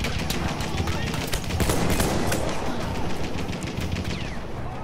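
Rapid, relentless enemy gunfire in the Battlefield 1 video game campaign: dense, continuous shots and clatter throughout, with a player's voice speaking over the noise.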